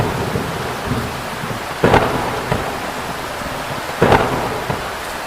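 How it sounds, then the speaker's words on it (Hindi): Heavy rain pours steadily over a village at night while two deep rolls of thunder rumble through, each starting with a sharp crack, with no voices. "पूरी रात बारिश होती रही। बिजली की गड़गड़ाहट की आवाज पूरे गांव में गूंज रही थी।"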